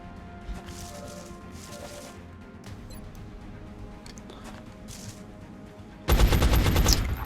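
Gunfire in the video game XCOM erupts as a loud sustained burst of rapid shots near the end, after a stretch of low ambient game noise and faint scattered effects.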